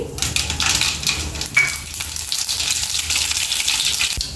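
Mustard seeds dropped into hot sesame or peanut oil, a steady crackling sizzle with brief spattering pops and a faint clink near the end, close up and without talking.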